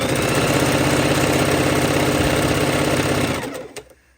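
Sewing machine running a quarter-inch quilt seam, a loud, even whirring drone with rapid needle pulses that winds down and stops near the end, close by and alone.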